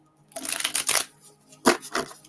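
Oracle cards being shuffled by hand in quick riffling bursts, a cluster of papery flutters followed by a pause and two more short shuffles, close up and without talk.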